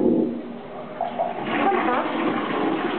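A toilet flushing in a small hotel bathroom in Egypt, a steady close rush of water swelling through the middle and continuing to the end, with a voice talking over the start.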